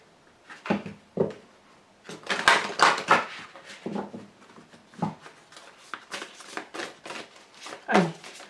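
Tarot cards shuffled and drawn by hand, a run of soft papery riffles and slaps with clustered bursts and pauses, close by with no talk.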